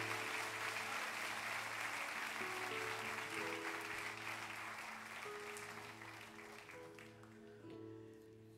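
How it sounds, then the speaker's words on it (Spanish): A church congregation applauds in a steady wash of clapping that slowly fades, while sustained keyboard chords ring underneath and continue after the clapping thins out. "Dese un aplauso."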